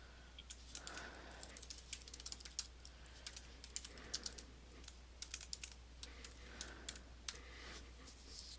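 Rapid typing on a computer keyboard while naming a document, a steady run of light, crisp key clicks in quick bursts with short pauses, close and fairly quiet, with no talking.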